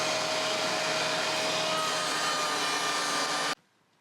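DeWalt DW735 thickness planer fitted with a helical cutterhead runs through thin wood, a loud steady whirring hum of cutting that cuts off abruptly near the end, with no talking.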